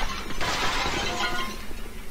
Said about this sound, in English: Shattering the pots?